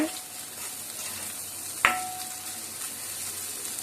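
Mutton brain fry sizzles steadily in a pan as it is stirred, a continuous hiss of frying with one sharp clink of a spoon against the metal partway through.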